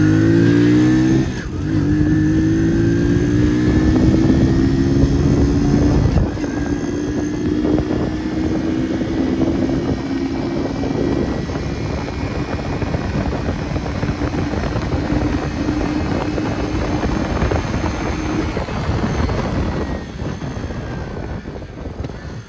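A 50 cc moped engine accelerates steadily in fourth gear, a loud, close, continuous buzzing drone whose pitch climbs and then holds over about twenty seconds, with wind rumble and no voices.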